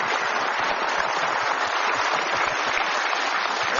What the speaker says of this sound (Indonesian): kita berikan aplaus yang paling meriah untuk Mustafa Bisri dalam puisinya